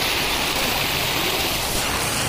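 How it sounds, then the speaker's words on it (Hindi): Fast-flowing floodwater in Bihar, a loud, continuous broadband rush of churning water close by, steady and unbroken with no voices. "यहाँ पे देख सकते हैं पानी कितनी तेजी के साथ बह रहा है"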